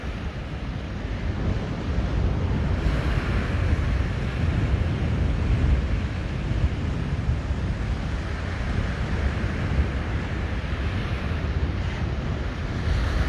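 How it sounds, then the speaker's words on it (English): Strong wind buffeting the microphone at Lanikai Beach on Oahu, a constant loud low roar with gusty swells and faint surf underneath, steady throughout with no talking. "I cannot believe how hard it is blowing right now"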